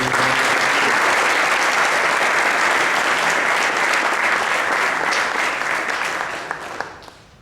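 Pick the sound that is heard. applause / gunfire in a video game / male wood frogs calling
applause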